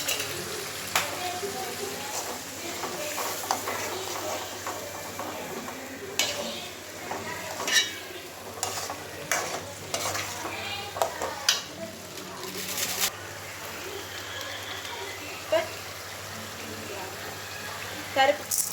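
Onions sautéing in a pan with a little turmeric for chicken gravy, a steady soft sizzle with intermittent scraping and stirring clatter, close by, with a low constant hum underneath.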